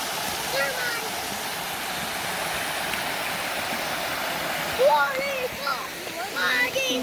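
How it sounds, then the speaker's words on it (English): Steady rushing roar of a waterfall in the woods at a campsite, close and continuous, with a few brief higher sounds near the end. "Loving my waterfall."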